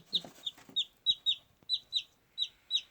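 Newly hatched chicks peep in a steady run of high, clear, evenly spaced cheeps, close and fairly soft, with faint rustling between the calls.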